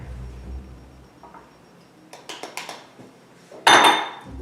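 A utensil scrapes and clinks against a pot or bowl while cocoa powder is stirred into melted butter: a few quiet taps, then a series of metallic clinks and a louder scraping clatter near the end.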